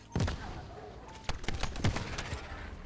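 Grenades go off in The First Descendant, with sharp bursts of gunfire-like explosions clustered in quick volleys, fairly faint overall.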